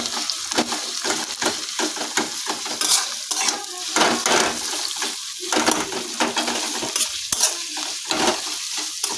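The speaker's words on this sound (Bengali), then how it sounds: "পেঁয়াজটাকে তেলের মধ্যে ভালো করে ভেজে নিচ্ছি" Chopped medium onions fry in hot oil in a home kitchen pan, a steady loud sizzle broken by repeated scraping stirs throughout, with no talking.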